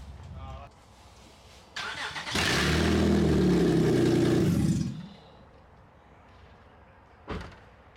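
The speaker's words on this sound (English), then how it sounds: "We'll put this other muffler on here, see how it sounds now." A Ranger engine fitted with a muffler on a catless Odyssey exhaust starts with a click, then idles loud and close for a couple of seconds before cutting off abruptly, with brief clunks before and after.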